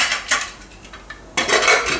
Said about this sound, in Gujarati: કુકરનું ઢાંકણું બંધ કરી દઈશું